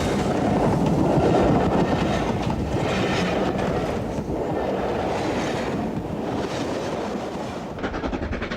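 A preserved LMS Stanier Class 5 'Black 5' 4-6-0 steam locomotive train running on a heritage railway, heard as a continuous loud rumble of wheels and carriages with some wind buffeting the microphone.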